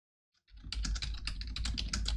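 Fingers type quickly on a computer keyboard while entering commands in a Forth programming environment on Linux, a close, steady run of clicking keystrokes starting after a brief silence, with no talk.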